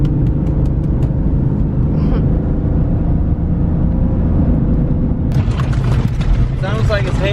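A car's tyres roll over a loose gravel road in a steady, dense rumble and crackle that continues throughout, with voices talking inside the car toward the end.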